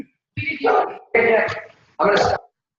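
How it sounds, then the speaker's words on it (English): A small beagle barks three times, each a loud, close, drawn-out yowling bark separated by short pauses. "He's a beagle. He has a very loud voice for a small dog."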